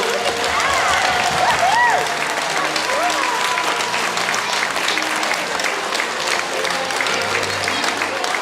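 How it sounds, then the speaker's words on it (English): Audience applause at a fifth grade farewell school assembly, a loud, sustained crowd of clapping hands lasting the whole stretch, with a few whoops and cheers rising above it early on. "Let's give a round of applause to them and the 5th graders who we will not be forgetting."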